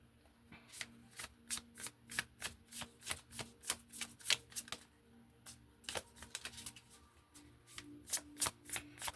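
Tarot cards are shuffled close up in a quick series of crisp riffling bursts and snaps, repeating rhythmically through the whole stretch with brief pauses between.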